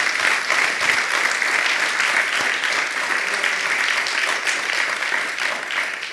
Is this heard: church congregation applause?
yes